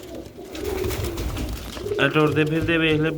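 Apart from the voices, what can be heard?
pigeon cooing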